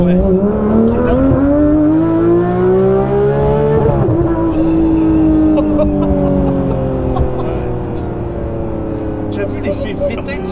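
Porsche 911 GT3 RS engine revving hard, with a rising and falling multi-toned howl that shifts sharply in pitch as it changes character at high revs, loud and near, with people talking over it.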